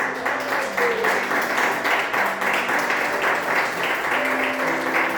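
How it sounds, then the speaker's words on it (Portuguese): A church congregation applauding continuously during a sermon, dense steady clapping that fills the room throughout with no pauses. "Você pode aplaudir o Senhor em nome de Jesus?"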